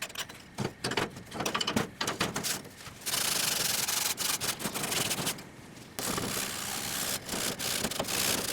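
Rusted cast iron BBQ grill grates being scrubbed with a white porous block: harsh, gritty rasping strokes, rapid and uneven at first, then long continuous grinding passes, loud and close.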